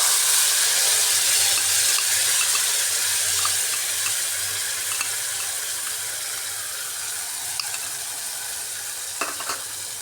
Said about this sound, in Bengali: এটা দিয়ে একটু সময় কষিয়ে নিচ্ছি মশলাটাকে